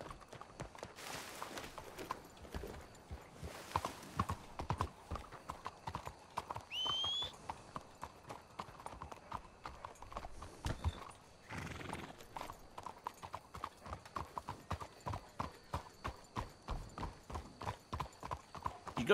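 Horses ridden on patrol in Red Dead Redemption 2, steady clip-clop of hooves at a walking pace with a neigh partway through, close and moderately loud, with faint voices now and then.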